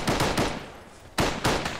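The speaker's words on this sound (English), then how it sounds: "they're shooting at us with silencers or something" Suppressed gunfire in the ArmA 3 military game, fired by a crew near a blown-up APC: a quick run of sharp muffled shots, a short pause, then two more bursts, fairly close and loud.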